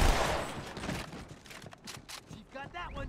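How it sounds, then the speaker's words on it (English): Twin submachine guns in Halo 2 let off a dense, rapid burst of gunfire that trails into scattered shots, with a voice speaking over the action. "You never should have gone up against me and my twin submachine guns."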